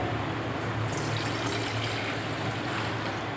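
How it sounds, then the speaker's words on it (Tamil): Water pours steadily into a small idli steaming pot while kozhukattai is being made, a continuous close splashing fill with no pauses. "தண்ணி ஊற்றிக்கிறோம்"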